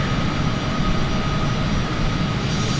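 Steady engine drone of a Bombardier 8000 airliner in a flight simulator, a constant broadband roar with a faint tonal whine, unchanging and continuous throughout with no voices.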